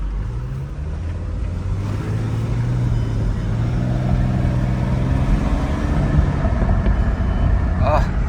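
A Mercedes turbo diesel car engine runs at about half throttle while driving, a steady low drone with a slowly rising engine tone that holds throughout, close and moderately loud with faint cabin noise.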